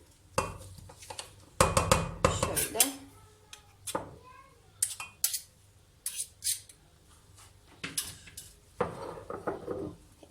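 Bowls and utensils clatter and scrape in irregular bursts as chopped nugget mixture is transferred from a food processor into a bowl, with a voice speaking in between.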